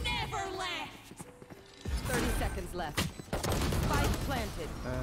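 Rapid gunfire bursts in the video game Valorant during a ranked Immortal 3 match, loud and dense shots over in-game sounds while players talk excitedly over them.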